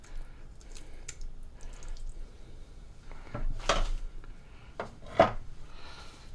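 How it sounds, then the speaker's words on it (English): Slow cooker chili ingredients being stirred with a spoon, a few scraping, rubbing strokes and a sharp knock against the pot, close up, quiet between bursts and with no talking. "So just mix everything really well"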